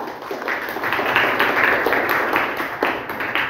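Schoolchildren in a classroom clap for a drawing during a class vote, producing a steady, dense patter of small hands that swells briefly and stays fairly close, with a faint murmur of young voices underneath.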